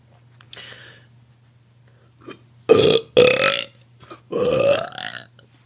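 A girl lets out three loud, deep belches in quick succession, each a long rumbling burp, with a faint breath sound beforehand over a low steady hum.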